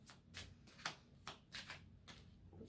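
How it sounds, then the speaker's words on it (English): Oracle cards being shuffled by hand close up, a quick series of soft papery riffles and slaps repeating at an irregular pace, quiet and alone with no talking. "I'm just going to shuffle them all out first."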